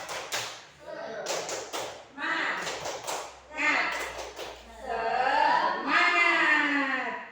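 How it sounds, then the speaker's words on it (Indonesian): A group of teachers at an opening session claps a rhythmic tepuk semangat pattern in several bursts of quick claps, mixed with voices chanting and talking throughout. "mari kita tepuk semangat bersama-sama dulu. Tepuk semangat."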